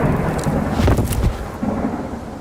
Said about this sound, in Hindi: बाहर देखो कितनी तेज तूफान आई हुई है।